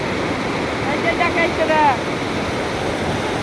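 River water rushes through a broken embankment in a steady loud roar, with faint voices talking briefly over the flow.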